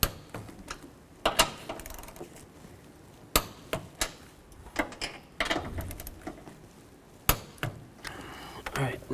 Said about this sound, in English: Now we can tighten these down. Torque these nuts to 33 foot-pounds.